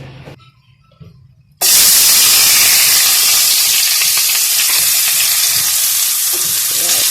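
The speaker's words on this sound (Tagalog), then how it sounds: "maggigisa tayo ng munggo with alokbati and malunggay" Mung beans go into a hot pan with alukbati and malunggay, a sudden loud sizzle after a quiet moment, then steady, close frying hiss with stirring that holds to the end.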